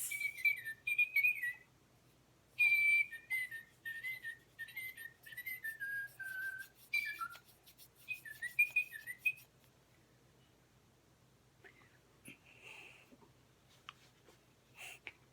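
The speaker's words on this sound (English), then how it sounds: "Meet my pet bird, Princess." A pet bird named Princess whistles in quick, high, chirping phrases, bursts of trills and slides with short pauses, close and fairly quiet against a faint background hum.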